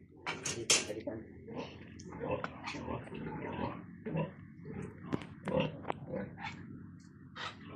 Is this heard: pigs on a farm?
yes